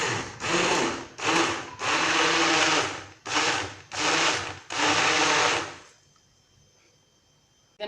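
A blender whirs loudly up close, mixing strawberry juice with sugar in six bursts of about a second each, separated by short pauses, then falls quiet near the end.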